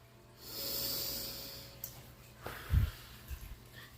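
A slow, deep breath drawn in as a soft airy rush lasting about two seconds, followed by quieter exhaled breath and a few low thumps, close and gentle.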